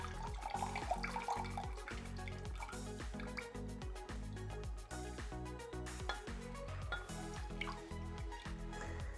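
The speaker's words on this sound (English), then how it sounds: "now I'm gonna just carefully pour some of this liquid into here" Liquid flushed from an old five-year-old PC water-cooling radiator pours into a container, a close, steady gurgling stream with rhythmic glugging pulses.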